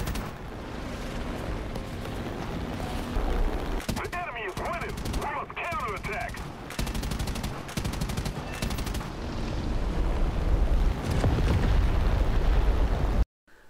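Eight 12.7 mm machine guns on a fighter plane in War Thunder rattle in long bursts over a roaring engine drone, with brief pauses between volleys and a loud final stretch.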